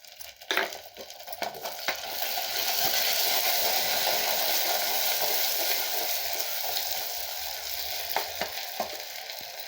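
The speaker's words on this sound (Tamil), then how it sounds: "பூண்டு, வரமிளகாய் இதை போட்டுக்கலாங்க. இது நல்லா வதங்கட்டுங்க." Garlic and dried red chillies sauté in hot oil with onion for a Kovai-style fish curry, giving a loud, steady broadband sizzle with a few sharp crackles and spatters, and no talking.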